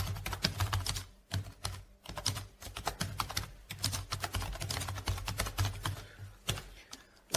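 Rapid keystrokes on a computer keyboard, a busy irregular patter of close clicks with brief pauses, no voices.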